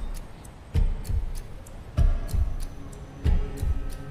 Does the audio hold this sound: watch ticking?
yes